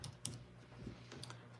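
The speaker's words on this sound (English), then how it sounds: "I'm typing too fast" Quick tapping of keys on a computer keyboard, a short burst of typing heard close and fairly quiet.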